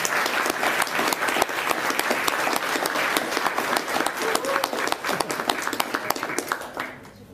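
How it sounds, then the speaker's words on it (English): An audience at a youth human rights awards ceremony claps loudly and steadily for several seconds, a dense round of applause that thins and fades near the end. "Let's give a round of applause to these young people"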